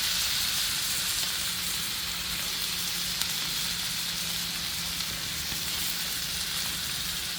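Mushroom curry sizzling in a pan as it is stirred: a dense, continuous hiss with an occasional faint utensil tick, close and steady for several seconds with no voices.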